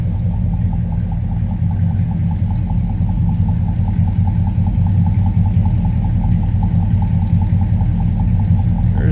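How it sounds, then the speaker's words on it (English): A 1959 Ford Fairlane 500 Club Victoria engine runs steadily with a deep, rumbling exhaust note, a loud and close continuous idle with an even pulsing throb and no voices. "Nice deep exhaust note."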